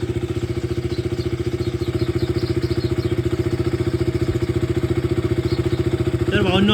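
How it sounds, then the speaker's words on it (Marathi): KTM Duke 200 BS4 motorcycle with a stock exhaust idling close by, a steady loud single-cylinder thump with an even fast rhythm, ending in a brief throttle blip. "भावांनो, आपण डूक स्टार्ट केलेली आहे."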